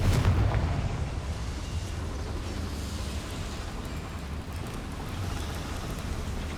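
Confringo fire spell blast in Hogwarts Legacy inside a goblin mine, a booming burst at the start that trails off into a long, low, rumbling roar.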